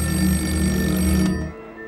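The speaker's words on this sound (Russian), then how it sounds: "Внезапно раздается телефонный звонок." A telephone rings in a quiet apartment, a steady electronic bell tone sounding alone and close for over a second before cutting off into near silence.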